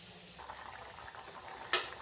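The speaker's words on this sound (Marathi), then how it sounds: "छान अशी उकळी येऊ द्यायची" Soft bubbling of dal with drumsticks boiling in a pot on the stove, quiet and close, ending with a brief sharp clink of metal.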